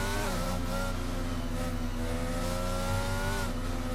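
McLaren race car rejoining the track at Abu Dhabi in a racing video game, its engine roaring loud and continuous with rising and falling revs as other cars run alongside.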